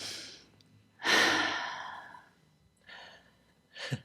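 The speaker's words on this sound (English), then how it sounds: "take a big, nice breath" A person takes a big, deep breath, drawing in a long, loud inhale and then letting out a sigh, followed by two shorter, softer breaths close to the microphone.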